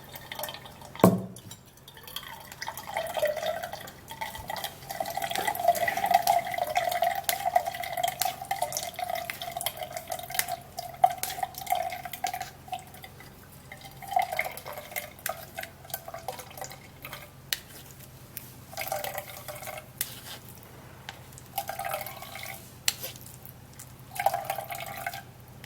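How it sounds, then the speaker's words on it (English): A drink pours through a strainer into a cup, a continuous trickling, dripping stream of liquid heard up close and fairly quietly, with no speech. "grab my cup, grab a strainer, and then I'll strain it out."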